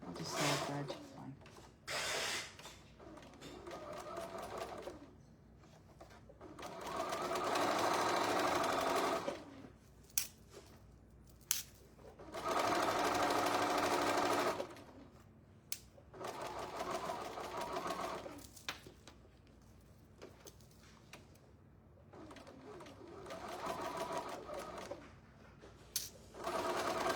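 A sewing machine stitches a candy corn table runner in bursts of steady whirring, several runs of a few seconds each separated by pauses with small clicks and handling noises.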